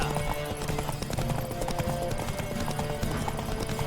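Rhythmic hoofbeats of a horse cantering in the Witcher 3 video game, steady close clip-clop over a busy game soundscape.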